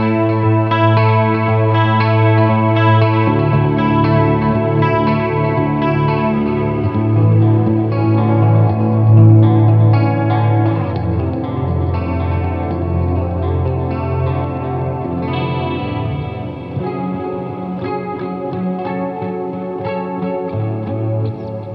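Electric guitar through a Kemper amp, drenched in heavy chorus and distortion, sustained shimmering chords played steadily for a long stretch, loud and alone with no voice.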